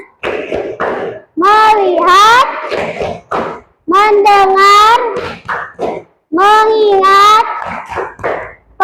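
A class of children chants in unison during a rhythmic tepuk fokus clapping routine, their sharp hand claps landing between and alongside the loud, close group voices in repeating phrases.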